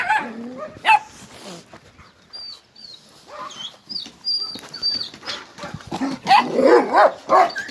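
Dogs barking outdoors in scattered sharp bursts, with a few yips and whimpers among the barks, moderately distant and intermittent over quiet background.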